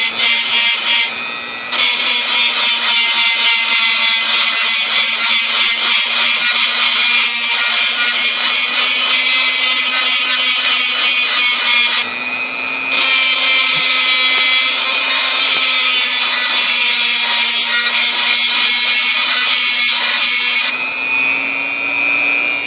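Power tool grinding metal to shave down a homemade diff tool for a B44 RC car, a loud continuous high-pitched whine in long runs broken by two short pauses, close up with no speech.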